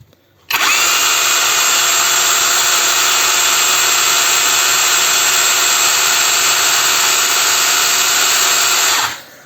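Heimerdinger LB169 cordless rotary hammer spins up sharply and runs at a steady high-pitched whine for about nine seconds, loud and close, then stops abruptly.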